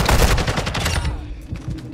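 Rapid bursts of video game gunfire crackle through the first second, dense and loud, then thin out to scattered shots and a low rumble.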